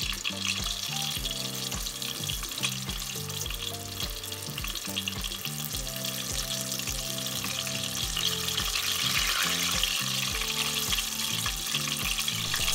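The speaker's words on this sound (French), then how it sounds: "l'humidité à l'intérieur va s'échapper et ça va éclabousser et s'imbiber du gras dedans" Greek horn peppers fry in hot oil with a loud, steady sizzle and bursts of crackling spatter as their moisture escapes, close up and continuous, with a few soft utensil clicks and no speech.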